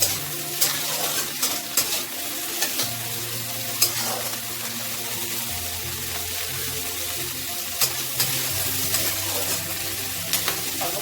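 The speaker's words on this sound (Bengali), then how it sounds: "ভাজা হয়ে গেছে, আমার গ্যাসটা অফ করে দিলাম।" Masala for paneer butter masala fries in a pan with a steady, close sizzle, while a spoon scrapes and stirs through it in irregular knocks and clinks, with no talking.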